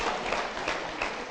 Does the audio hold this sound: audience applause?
yes